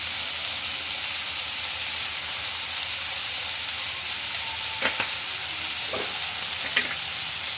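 Onions and tomatoes cooking down in a pan for an egg curry, giving a steady, loud hissing sizzle, with a few spoon scrapes and taps near the end.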